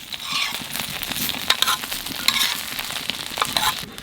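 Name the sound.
hilsa fish frying in a pan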